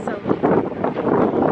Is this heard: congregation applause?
no